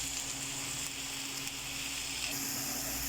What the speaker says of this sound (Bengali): এই যে ভাজাভাজি হচ্ছে, এবার আলুটা ঢালবো।